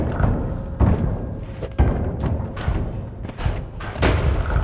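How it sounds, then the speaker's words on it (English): Repeated booming explosions from the video game Noita thud in quick succession, loud and close, several blasts spaced across a few seconds. "Who's making all these explosions?"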